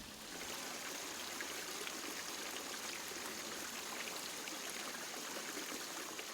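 Water spills steadily over a garden pond waterfall, a constant, even rushing and trickling wash heard alone at moderate distance with no voices.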